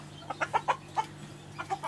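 Small village chickens with month-old chicks on a backyard farm in Ratnagiri cluck softly in a short run of quiet, moderately distant calls, with no talking.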